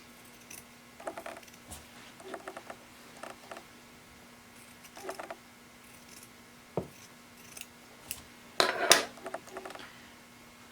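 Sharp, brief snips of scissors trimming a fabric seam allowance on a V-neck dress bodice, several quiet cuts in small clusters with a louder burst of snipping near the end, close and otherwise calm.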